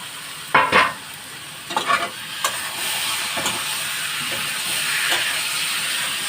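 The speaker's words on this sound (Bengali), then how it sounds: "এর মধ্যে আলুগুলো দিয়ে আবার কষাচ্ছি।" Potatoes sautéed with turmeric and ground coriander for a mutton curry: a steady hissing sizzle, louder scraping stirs near the start, then the frying hiss settles and thickens toward the end, no voices.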